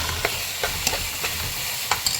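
Chicken meat frying in a pan with garlic ginger paste and turmeric powder, a steady close sizzle broken by several scraping stirs of a spoon.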